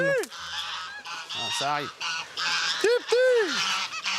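Honking waterfowl call repeatedly beside a Normandy château, loud and close, with rising and falling cries over outdoor ambience, and a brief spoken remark.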